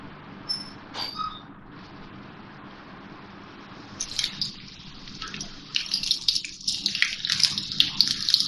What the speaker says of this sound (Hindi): ये मैंने और फ्राई करने के लिए डाल दिए हैं, अच्छा सा कलर आ जाएगा इसका